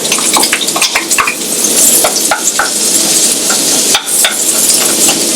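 Onion, garlic, ginger and bay leaf sizzle loudly in a hot pan for beef goulash, with a spoon stirring and scraping through the continuous frying hiss and no voices.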